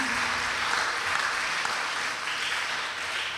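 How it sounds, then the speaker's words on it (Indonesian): Congregation applause in a Christmas church service, a steady, dense wash of clapping throughout the short clip with a faint voice or music underneath. "Mari kita berikan tepukan tangan untuk Tuhan Allah kita."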